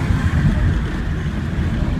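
Engine of a 1971 Porsche 911E on a test drive, a steady low rumbling drone with road and wind noise, loud and close inside the car, no voices.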